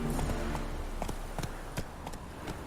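Horse hooves clip-clopping in The Witcher 3, a steady run of distinct hoof strikes up close and fairly loud, with little else around them.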